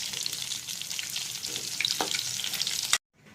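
Pork fat melts and sizzles steadily in a pan for a Kerala-style pork curry. A dense, close frying crackle continues with a few sharper pops and stirring scrapes, then cuts off abruptly near the end.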